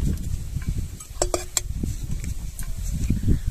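Bay leaf and a dried red chilli, both torn, sizzle in a pan over sugar browned until red, stirred for a Bengali bhetki fish with poppy-seed paste. Steady close frying hiss with a few light clinks from the stirring.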